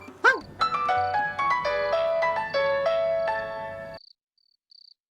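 A phone on an outgoing call to the boss plays a bright, stepped ringing melody for about four seconds, then cuts off abruptly, leaving a few faint short beeps in near silence.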